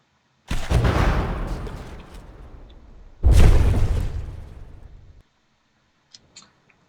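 Two loud booming explosions go off in a video game about three seconds apart. Each bursts suddenly and decays into a rumbling tail, followed by a few faint clicks.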